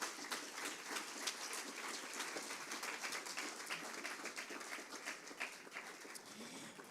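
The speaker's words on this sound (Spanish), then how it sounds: "Dele un aplauso al Señor por su palabra" A church congregation applauds the Lord during a Spanish-language sermon, steady sustained clapping from many hands, moderately loud and even throughout with no voices over it.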